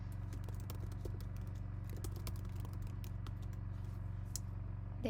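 Someone types an address on a computer keyboard, a run of quick, light, irregular key clicks over a steady low hum, close and fairly quiet, with no talk.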